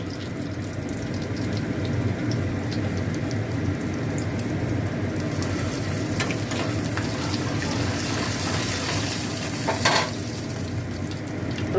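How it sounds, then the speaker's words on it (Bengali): Cumin, dried chili and asafoetida crackle in hot mustard oil in a kadai, a dense continuous sizzle with scattered pops and brief spikes near the end, close and steady. "দিয়ে জিরে আর শুকনো লঙ্কাটা ফোড়নে দেবো"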